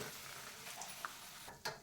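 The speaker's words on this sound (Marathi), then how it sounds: "या शेंगदाण्याचा कलर चेंज झाला आहे आणि हे तडतड वाजू लागले आहेत" Steady frying hiss fills the clip, with a couple of sharp crackles and pops near the end as peanuts sizzle and change colour in hot oil.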